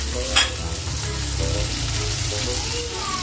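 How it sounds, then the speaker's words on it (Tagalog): Onion and garlic sauté in a hot pan for corned beef with cabbage: a steady, close sizzle and crackle of frying with occasional stirring scrapes, no voices. "Igisa na natin ang sibuyas. Pati na rin ang ating bawang."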